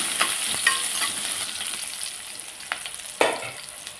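Gentle sizzling of onions frying in hot oil, a steady crackle with a few brief louder pops and stirring clicks, no voices.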